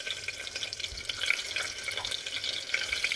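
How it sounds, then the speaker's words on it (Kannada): Garlic, cinnamon and cloves fry in ghee for a vegetable pulao, giving a steady, soft crackling sizzle with faint bubbling and scattered brief pops close by, heard without any talking. "ಚಕ್ಕೆ ಮತ್ತು ಲವಂಗ ಹಾಕೊಂಡಿದ್ದೀನಿ ಮತ್ತು ಬೆಳ್ಳುಳ್ಳಿ ಹಾಕ್ತಾಯಿದ್ದೀನಿ"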